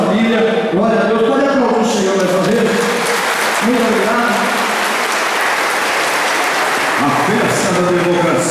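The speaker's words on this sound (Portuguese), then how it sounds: "Pode aplaudir o Senhor mais uma vez." A crowd applauds at a mayoral inauguration ceremony, dense clapping running under a voice that speaks at the start and again near the end.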